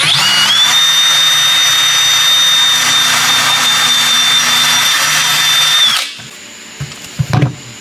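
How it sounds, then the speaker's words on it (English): A power drill spins a tire repair tool bit for a UTV tire, a steady loud high-pitched whine running for about six seconds before cutting off, followed by a few brief handling clatters. "So now I've got this stuck up on a drill."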